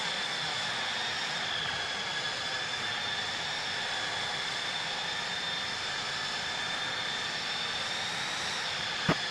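Steady, droning roar of a McDonnell Douglas DC-10F's jet engines on takeoff in the Prepar3D v4 flight simulator, a constant broadband rush with a thin high whine layered on top, holding level throughout.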